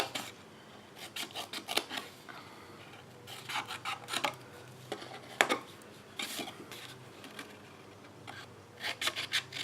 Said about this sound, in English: I'm going to cut it to the score line.